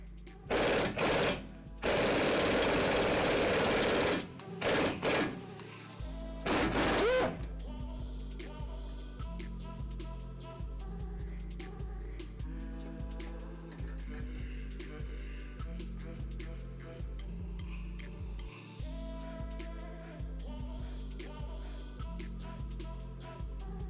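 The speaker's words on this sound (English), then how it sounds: "I'm going to use the impact because it's going to be a little bit faster and easier" Loud bursts of an impact wrench hammering while installing extended wheel studs on a Mazda Miata, then quieter rattling mechanical clatter continuing steadily in the background.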